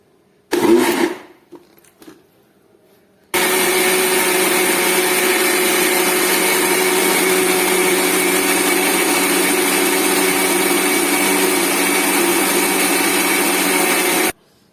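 A kitchen mixer grinder blends amla (Indian gooseberry) with boiled, cooled water, running as a loud, steady whir for about eleven seconds after a few brief handling knocks.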